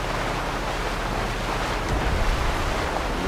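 A baller vehicle rolling across water in Fortnite, giving a steady, loud rush of splashing surf and wind with no pauses.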